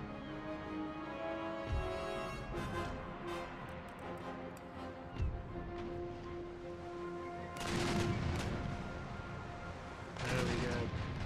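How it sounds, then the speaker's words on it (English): Musket volleys and cannon fire from a naval battle in Empire: Total War, with sailing first-rate ships, come as scattered shots and heavy booming bursts under a steady game soundscape, with someone talking over the action. "Plenty of shots abound."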